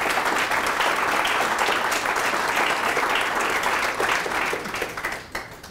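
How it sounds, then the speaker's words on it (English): Applause for F. Lee Bailey, the 2018 Willowbend honoree, fills a room: a dense, loud, sustained round of clapping from a large audience that thins out and fades near the end. "One more round of applause for Mr. Bailey."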